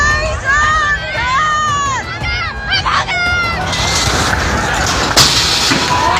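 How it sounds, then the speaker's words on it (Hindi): Hundreds of people carrying swords crowd inside a gurudwara in Nanded, Maharashtra, a loud, continuous roar of shouting voices with raised yells, whistles and chaotic noise throughout. "गुरुद्वारे के अंदर हाथों में तलवार लिए सैकड़ों की भीड़ है।"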